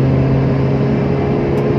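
A Honda Mobilio with a manual gearbox accelerates in fourth gear, its engine giving a steady loud drone heard from inside the car, with no talk.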